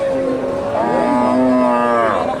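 A cow at a cattle market in Bogura gives one loud, drawn-out moo with a rising, wavering pitch, close by and lasting about two seconds, with no talk over it.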